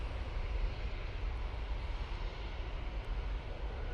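An Emirates airliner in a new special livery arrives from Dubai, a steady loud jet engine roar with broadband rumble holding constant and no talk.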